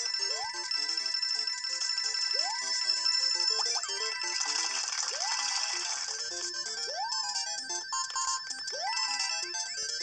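Bright, bouncy chiptune-style music from New Super Mario Bros 2, with repeating rising synth motifs and sustained high tones at a moderate, steady level with no talking.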